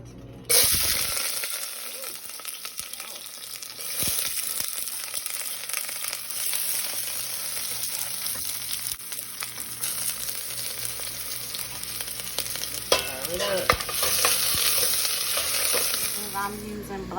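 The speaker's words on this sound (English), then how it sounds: "I'm about to put my onions in there." Chopped onions sizzle and fry in a chili pot, a loud steady crackling hiss after they drop in, with occasional stirring scrapes and clatters throughout and no talking.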